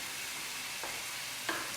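Prawns frying in a pan for a risotto give a steady, close hiss of sizzle, with brief stirring scrapes and no voices.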